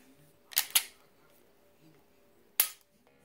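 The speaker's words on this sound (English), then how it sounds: "Now this is what we call dry fire." Sharp mechanical clicks from dry firing a handgun fitted with a Mantis X10 Elite trainer: a quick pair of snaps, then a single click about two seconds later, close by over a quiet room.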